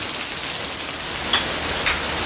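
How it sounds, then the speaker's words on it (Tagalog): Heavy rain pours steadily outside while someone sautés in a home kitchen, a dense even hiss with a couple of faint sharp ticks. "Sobrang lakas talaga ng ulan."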